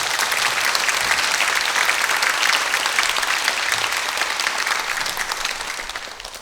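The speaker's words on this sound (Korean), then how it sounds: "우리 다시 한번 큰 박수 보내주시기 바랍니다." A concert audience applauds after a youth orchestra with a flute soloist plays a Bach orchestral suite. The applause is dense and sustained for several seconds, then gradually tapers, with no voices on top.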